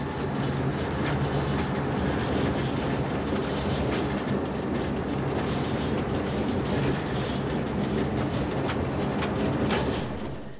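A MÁV class 733 Bo-Bo locomotive departing on rails, hauling HÉV cars toward Kén utca in Budapest, with a steady loud rumble, wheel noise and rhythmic clicking as it moves off.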